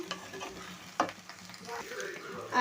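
Okra pieces frying in a pan, a low steady sizzle under occasional spatula scrapes and one sharp clink, close by with no one speaking.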